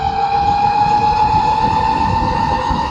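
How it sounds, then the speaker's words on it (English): A 72V electric bike's motor clutch pack howls under load, giving off a loud, steady high-pitched whine with a rough rumble beneath it and no talking. "They said that noise is the clutch pack that's in this motor"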